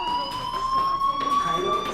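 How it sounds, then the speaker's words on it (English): Steady electronic fire alarm tone from the Life is Strange video game, a sustained high ringing pitch with harmonics that holds for the whole stretch, loud and continuous with faint background sounds beneath. "do you hear that fire alarm?"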